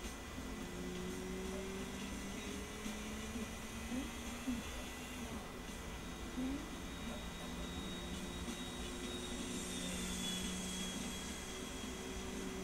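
A propeller or jet plane passes in GTA IV, a steady droning engine roar with a low hum underneath, sustained and fairly constant over the whole stretch, with no talk over it.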